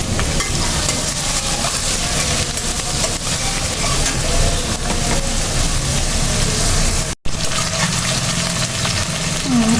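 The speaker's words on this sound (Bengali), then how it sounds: "পেঁয়াজটা ভাজা হয়ে আসছে।" Chopped onions fry in a pan alongside chopped garlic, making a steady dense sizzle that runs close and loud throughout with a brief dropout near the end.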